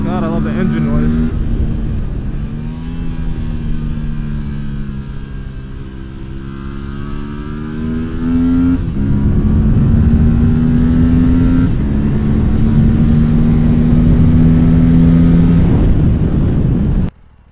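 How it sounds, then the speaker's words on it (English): A 2025 Aprilia RS457 sport motorcycle engine revs and shifts through gears at speed on a track, its pitch rising and falling, loud and close with wind rush throughout. "God, I love the engine noise."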